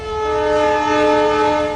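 A train horn holds a loud, steady multi-tone blast near the listener as a train passes through Vadnagar, with no talk over it.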